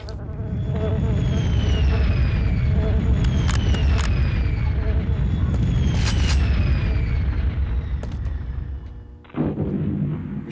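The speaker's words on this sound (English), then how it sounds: "Machine gun fire." Machine gun fire in Quake 2, played as an Oculus Rift demo, crackles in rapid bursts over a dense, continuous roar of game noise before a brief dip near the end.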